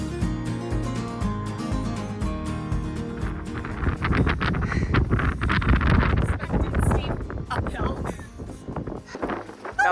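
Gusty wind buffets the microphone in a rising roar outdoors in Scotland, with voices and other sounds blurred underneath it.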